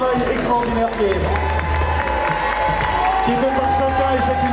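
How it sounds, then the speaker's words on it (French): Crowd at a cosplay contest at a French fan convention claps and cheers for the contestants, sustained applause and crowd noise under an announcer speaking over a microphone. "On les applaudit très très fort pour ce travail extraordinaire qui est"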